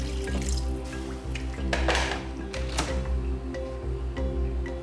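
Water runs and splashes steadily into a cooking pot holding quail for soup, with a few louder sloshes and drips near the microphone.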